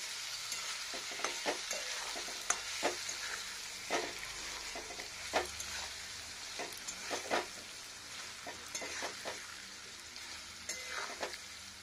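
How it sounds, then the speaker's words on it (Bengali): Vegetables and spices fry in a pan with dried chillies, cumin and fennel. A spatula scrapes and stirs in repeated strokes over a soft, continuous sizzle, close up and with no talking. "এবার আরেকবার নাড়া দেব"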